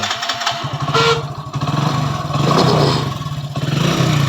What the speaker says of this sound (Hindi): तो चलिए हम बाइक को स्टार्ट करते हैं और आपको दिखाते हैं।